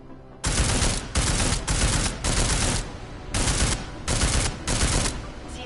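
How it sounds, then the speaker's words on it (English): Weapon fire in Deus Ex: Mankind Divided: seven loud, heavy full-auto bursts, each under a second, separated by short gaps, close and punchy with a dense roar. "This weapon sounds a bit more impactful."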